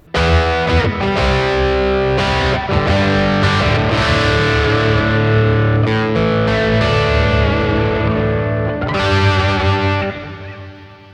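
A Henry's Music Stratocaster electric guitar played through Klon overdrive pedals rings out loud and driven, strummed chords and sustained notes with warm, crunchy overdrive, fading at the end.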